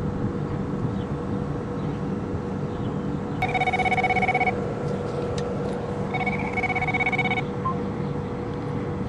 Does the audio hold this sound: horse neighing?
no